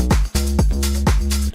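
Layered top bass and sub bass made in Nexus 3 pulse with sidechain ducking, three heavy pumping hits with sweeping drops in a short loud electronic loop.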